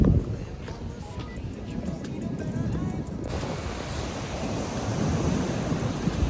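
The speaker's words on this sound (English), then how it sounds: "Let me show you guys the beach." Waves and wind on a beach in Nigeria, a loud continuous roar of surf with gusty wind noise that thickens midway and stays dense to the end.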